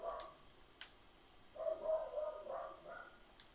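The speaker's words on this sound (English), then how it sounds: "Oh, that's my dog." Tucker, a pet dog, barking: faint distant woofs and yips, a few scattered short calls with a slightly longer whining stretch midway, quiet in the background.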